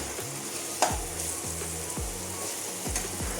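Ginger garlic paste frying for Assamese-style chicken pulao, a steady close sizzle with periodic scraping stirs of a spatula against the pan, no talking.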